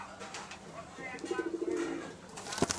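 A large Giribaz pigeon gives a short, soft, close cooing call partway through, with light background sounds around it and no speech over it.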